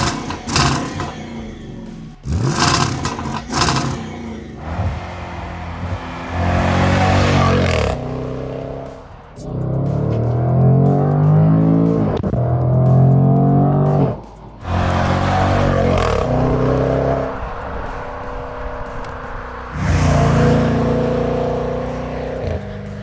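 Jaguar F-Pace SVR V8 SUV engine revving loudly and close, with repeated rising and falling throttle blips, deep roaring surges and brief pauses between revs.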